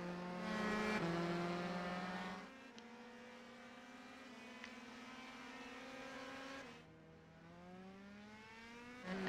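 Race cars in a racing video game pulling out of pit road onto the track at Watkins Glen, engines revving and shifting up through gears in rising whines, one car after another, with no talking.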